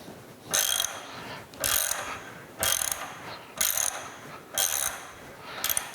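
A radial drill universal table is rotated by hand, producing a series of about six evenly spaced ratcheting clicks, each a short mechanical burst, close and moderately loud.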